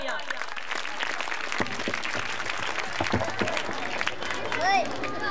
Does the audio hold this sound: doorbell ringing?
no